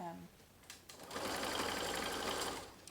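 A sewing machine stitches ribbon onto a separating zipper, starting with a few short stitches and then settling into a steady, fast, close whirring run, with a voice heard briefly at the start.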